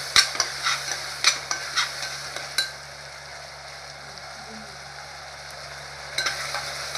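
Onion, tomato and spices, with Nashik goda masala, frying for Nashik misal gravy: a steady close sizzle with a run of sharp spoon scrapes and knocks at the start and a few more near the end, no speech.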